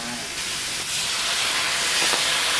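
Water poured into a pan of hot oil while cooking glass noodles with shrimp, a loud, broad steady hiss of sizzling and bubbling that swells slightly and continues throughout.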